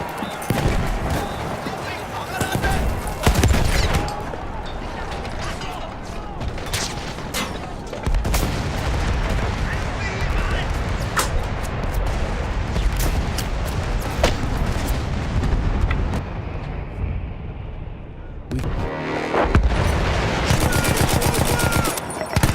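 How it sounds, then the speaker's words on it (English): Rapid volleys of gunshots during a battle scene, dense overlapping bangs and bursts of fire crackling throughout, loud and near, with shouted voices mixed in and a brief lull before firing resumes. "They're coming! Fire at will!"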